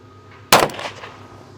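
A single sharp 9mm gunshot cracks loudly into a wooden floor indoors, a sudden blast followed by a brief ringing decay.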